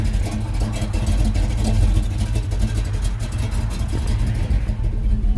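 A 1968 Chevelle with a 396 engine cruising on a country drive, its loud low engine rumble steady and continuous throughout with slight swells in revs.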